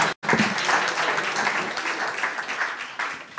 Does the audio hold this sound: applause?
yes